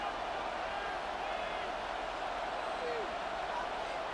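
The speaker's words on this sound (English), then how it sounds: "The Buffalo crowd being heard before third down." A Buffalo stadium crowd roars steadily before a third-down play in a football game. The broad noise is continuous and distant, with no clear individual voices.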